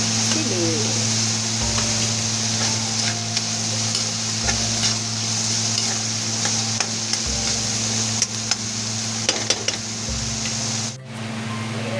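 Onions and chicken intestine sautéing in a pan, a continuous loud sizzle with a steady stirring scrape, a low hum underneath and a few clinks near the end.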